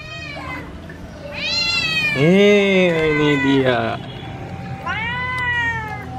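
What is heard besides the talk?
cat meowing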